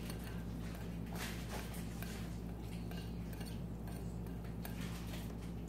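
A child stirs pancake batter in a bowl, with a few soft clinks and scrapes over a steady low household hum, no talking.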